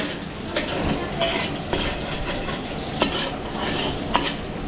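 Garlic and onion sautéing in a pan for a catered birthday meal, a steady close sizzle with scraping stirs and occasional metallic clinks of a utensil against the pan.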